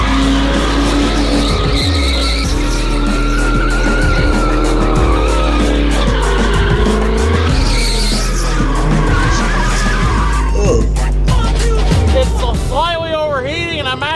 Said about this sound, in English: Tires screeching in there.